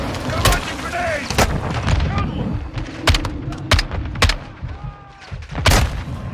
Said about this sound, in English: You're launching grenades!